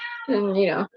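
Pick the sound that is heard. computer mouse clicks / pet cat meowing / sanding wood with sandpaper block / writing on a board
pet cat meowing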